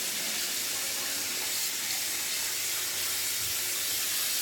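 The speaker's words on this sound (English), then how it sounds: "Warm water rinse." Warm tap water runs steadily from a faucet into a sink for a rinse during a wet shave with a Rockwell 6S razor, a continuous close hiss and splash with no voices.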